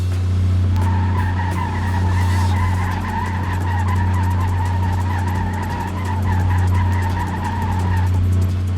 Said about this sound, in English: let's do a little bit of a burnout up here